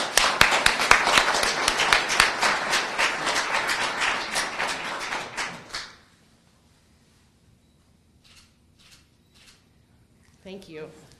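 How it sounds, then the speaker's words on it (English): Loud, dense audience applause fills a hall at an Adoption Awareness Month presentation honoring private guardians ad litem, sustained for about six seconds before cutting off into near silence with a few faint knocks. "Big round of applause, please,"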